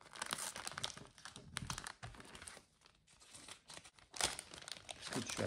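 Wrapping paper crinkles and tears in close, loud bursts as a gift is unwrapped, rustling in irregular handfuls with short pauses.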